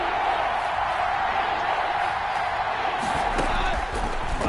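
A football video game stadium crowd roars steadily before a big third down, a dense wall of cheering with some sharper bursts near the end.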